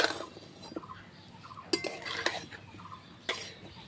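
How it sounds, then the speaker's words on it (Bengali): Spoon stirring a fried spice mix into potatoes and leafy greens in a pan, scraping and clinking strokes with a few sharper knocks against the metal, fairly quiet and close, no voices. "খুব ভালো করে মশলাটাকে মিশিয়ে নিচ্ছি"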